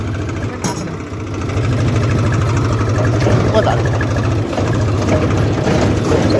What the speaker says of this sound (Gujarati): આપણે રંજીતભાઈ ટ્રેક્ટર પર ડ્રાઇવિંગ કરે છે